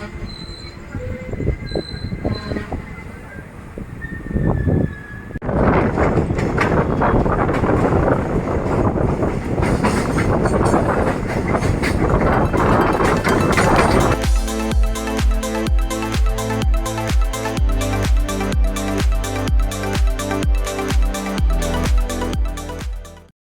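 A train runs past a small railway station at Mulki, with a goods train waiting opposite, and rolls over track switches. Loud, steady rumbling and rattling builds, then gives way to a dense run of regular wheel clatter over the points.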